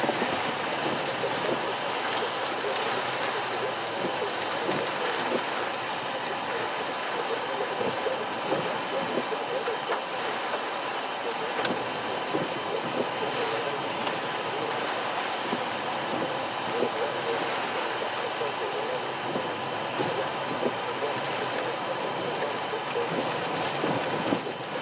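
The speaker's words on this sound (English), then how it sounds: "You hear the wind roaring." Hurricane-force wind roars steadily during Hurricane Ian, making a dense, unbroken rush with gusts that swell and ease for the whole stretch. No voices are heard.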